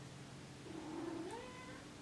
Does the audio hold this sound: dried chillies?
no